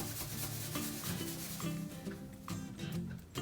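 An object is rubbed against hair to build static electricity, giving soft close scratchy rubbing strokes in an uneven rhythm, faint and without talk.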